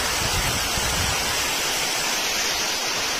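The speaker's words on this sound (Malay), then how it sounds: "Sedikit lagi nak cecoh air ke dalam rumah Pak Teh tu." Floodwater rising after heavy rain in a village, a constant dense rushing and hissing of water that stays steady and fairly loud throughout without any voices.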